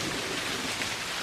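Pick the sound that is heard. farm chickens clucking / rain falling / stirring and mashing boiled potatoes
rain falling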